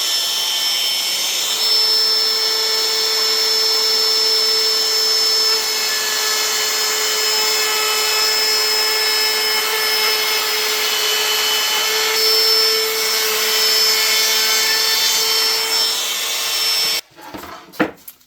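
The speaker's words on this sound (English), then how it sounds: "the reason why I chose to use a router and not just sandpaper when I go across this is because it gives it a uniform chamfered edge" A compact wood router chamfers a wooden edge with a steady, loud, high-pitched whine that holds for about seventeen seconds, then cuts off and is followed by a few clunks of handling.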